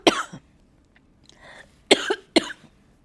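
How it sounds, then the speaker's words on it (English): Harsh coughing close by: a cough at the start, a quiet throat-clearing rasp, then two more strong coughs near the end. "Bit of a coughing episode there"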